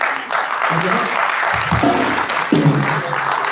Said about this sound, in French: Aujourd'hui, j'ai envie de vous entendre applaudir